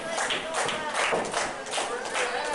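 Wrestling crowd at a Riot Pro Wrestling match between Christian Mills and Jacob Guile, steady arena noise with scattered clapping and cheering swelling in repeated bursts, a voice faintly over it.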